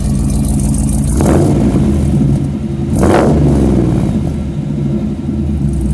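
Rumbling exhaust from a custom 1970 Chevrolet Chevelle SS convertible with an LS3 engine, idling steadily on a cold morning, with two brief revs swelling louder before settling back to a deep, continuous burble close by.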